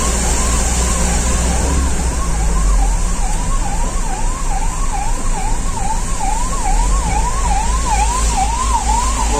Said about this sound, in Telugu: ఓ అంబులెన్స్.